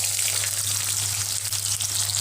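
Raw onion, garlic and green chilli hit hot mustard oil in a pan, giving a steady, close, even sizzle with a low hum underneath throughout.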